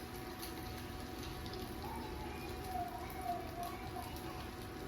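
Salmon skin frying in a hot pan, a continuous soft sizzle with scattered small pops as water spits, quiet and steady throughout.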